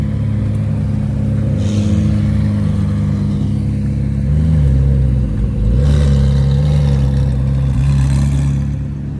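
A 2024-spec McLaren Senna GTR drives on a public road, a steady loud engine drone with a couple of small revving swells partway through, close by and with no talk over it.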